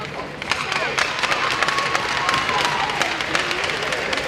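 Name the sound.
audience applause at hockey game ceremony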